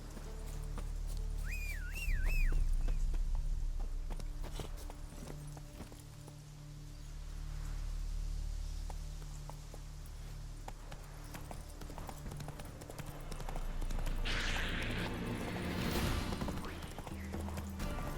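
Horse hooves galloping in The Witcher 3 video game, a faint steady clip-clop rhythm under game ambience with a brief whistle early on and a soft whooshing swell near the end.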